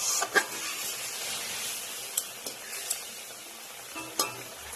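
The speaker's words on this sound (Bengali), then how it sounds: "এবার ভালো করে ফুটতে দেবো যতক্ষণ না এই জলটা আর সর্ষেটা একসাথে মিশে যায়" Tilapia pieces in a mustard and water curry cooking in a pan, giving a soft, continuous bubbling sizzle with a few light scrapes and clinks from stirring, close by with no talking.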